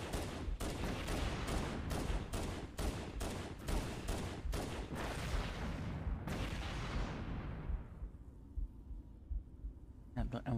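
Gunfire in the video game Halo: Combat Evolved, a rapid series of loud, evenly spaced shots for about six seconds, then the echo fading away before a couple of final bursts.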